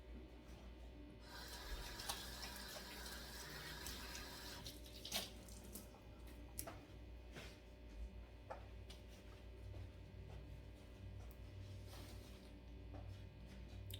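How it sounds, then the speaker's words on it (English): Tap water runs steadily into a kitchen sink while hands are washed during cooking, a faint, even splashing hiss that continues throughout with occasional small clinks. "So let me wash my hands."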